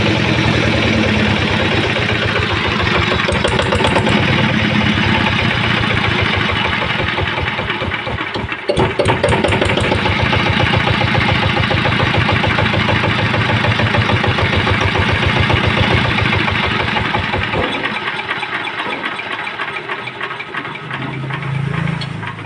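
A used Japanese SS80 diesel engine starts up and settles into a steady, loud idle with a dense, knocking mechanical rhythm that runs close and continuous throughout, briefly dipping in the middle before resuming.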